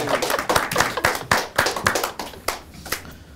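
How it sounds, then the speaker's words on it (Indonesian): A small audience at an Indonesian stand-up comedy final claps in a loose, sparse rhythm of distinct hand claps, close and fairly quiet, tapering off toward the end. "Tepuk tangan buat Nyoman dong"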